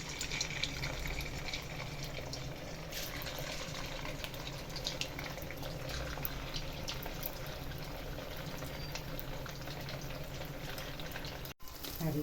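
Cut strips of sooji (semolina) french fries sizzle in hot oil, a steady close hiss of bubbling and frying that runs evenly throughout with a brief dip near the end, no voices.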